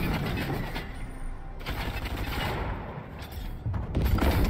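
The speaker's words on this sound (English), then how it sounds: "We have to make sure we hit him with the cannon." A cannon fires in the Fortnite video game amid a dense run of booms, thuds and crackling impacts, loud and continuous with a few sharper bursts.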